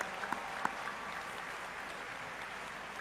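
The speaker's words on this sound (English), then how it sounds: "Let's give them a big round of applause" Students and parents applauding university faculty and staff at a JGU convocation, a soft, steady wash of distant clapping in a large hall with a few sharper claps early on.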